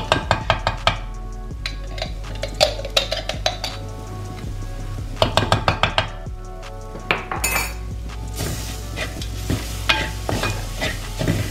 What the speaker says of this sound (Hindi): खूब अच्छे से शक्कर को इसमें मिक्स करेंगे